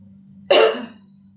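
A single short, harsh cough, close and loud, against a low steady hum.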